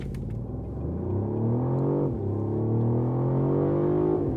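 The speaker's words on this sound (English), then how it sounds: "This is a buttery smooth engine. It sounds good." A 2024 Mercedes-Benz CLE Coupe engine revs up smoothly, its deep hum climbing in pitch as it accelerates, a strong steady drone close by.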